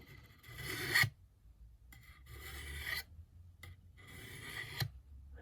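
A Work Sharp Ken Onion benchtop sharpener grinds the tip of a knife in three separate close, rasping passes, each a harsh abrasive burst followed by a short quiet gap.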